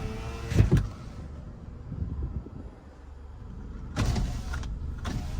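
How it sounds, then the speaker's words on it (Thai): The power windows of a 2012 Toyota Altis 1.6E CNG whir as their electric motors run, one short stroke and then a second, longer burst with a pause between, heard close up inside the car. "แล้วก็กระจกไฟฟ้าใช้ได้ครบนะครับ นี่ใช้ได้ครบนะ"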